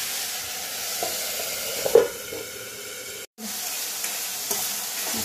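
Tomato masala sizzles and fries in oil for a traditional Bengali mochar dal, with a steady hissing crackle and occasional stirring scrapes close up, briefly cut to silence midway.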